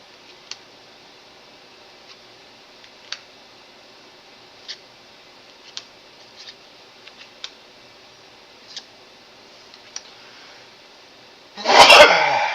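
A single loud, close sneeze bursts out near the end, after a long quiet stretch of faint ticking and clicking during a tabletop card game.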